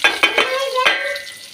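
Onion and potatoes drop into a hot pan for Gujarati tempered rice, giving a few sharp sizzling bursts and spoon scrapes, then a steady close frying hiss.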